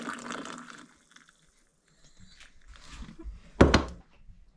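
Freshly brewed coffee poured from high into a mug inside a winter off-grid cabin, a brief splashing gurgle that swells then fades, with a sharp thunk of the mug, soft clinks and quiet handling noises around it.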